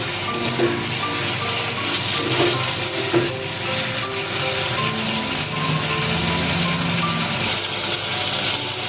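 Prawns fry in a pan of oil for a ridge gourd and prawn dish, giving a steady, close sizzle with a few faint stirring clinks and no talking.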